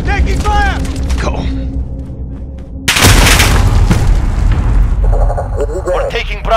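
Gunfire and explosions in the Call of Duty: Modern Warfare multiplayer game, with a loud blast burst at about three seconds followed by dense shooting and booms, mixed under game voice callouts.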